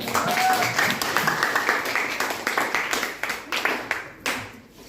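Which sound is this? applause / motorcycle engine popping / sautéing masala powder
applause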